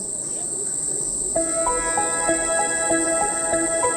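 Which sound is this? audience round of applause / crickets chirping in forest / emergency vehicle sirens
crickets chirping in forest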